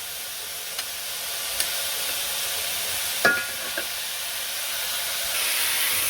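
Garlic fries in a pan in a village kitchen, giving off a steady, airy sizzle and hiss. A few faint clicks of a stirring utensil break through the constant frying sound.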